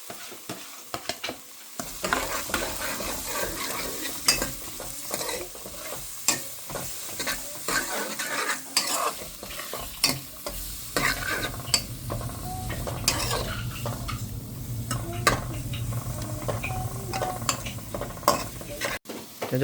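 Cabbage and carrots stir-fried in a hot pan, with a steady sizzle under repeated scraping and clattering of a utensil against the pan, growing louder toward the end.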